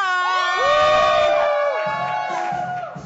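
A loud crowd screams and cheers in sustained high-pitched shrieks, many voices overlapping at full volume throughout.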